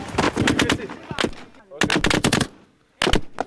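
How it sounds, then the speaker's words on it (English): Heavy gunfire exchange on the road to Mosul as Peshmerga fighters return fire: loud, close bursts of rapid automatic shots in three clusters separated by brief pauses. "the Peshmerga rapidly began to fire back"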